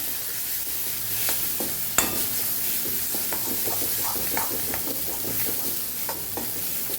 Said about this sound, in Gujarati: પાછી સરસ સાતળી લેવાનું છે મસાલાને.